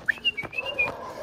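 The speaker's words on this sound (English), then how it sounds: "They've learned our whistle." A person whistles a rising call followed by a long sustained tone to summon a group of adoption dogs outdoors, loud and close with a short first chirp and a steady held note.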